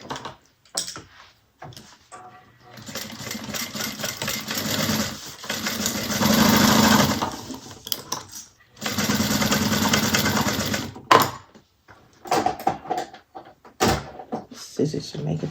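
A sewing machine stitching a 3/8-inch seam on a handmade bag, running in two sustained whirring bursts of several seconds each, separated by handling clatter and a person talking between runs.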